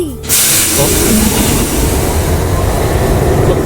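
A loud, continuous rush of a train rolling by up close, with steady hissing and rumbling that swells in after a brief quiet start, from the Thai dub of the anime Kyokai no Kanata.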